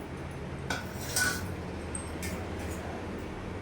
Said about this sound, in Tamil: ஸோ அப்படியே கிண்டிகிட்டே இருப்போம்